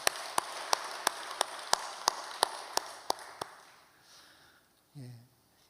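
About ten sharp claps sound at a slow, even beat in a Korean early-morning church service, near and distinct, before fading into a quiet room with a brief low voice at the end.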